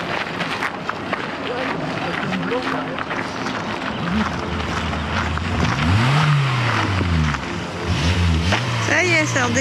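A Renault 4L engine turns over and catches again after a breakdown, then revs up and down with rising and falling pitch. Excited voices talk over the engine throughout.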